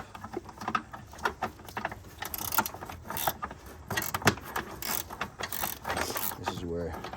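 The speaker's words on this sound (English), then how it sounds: "this is where I like this kind of wrench to come into play, because I can just hold it and screw it in" A ratcheting wrench tightens the 12V battery terminal on a 2015 Subaru Forester, giving rapid runs of metallic clicks in bursts with brief pauses, close and steady.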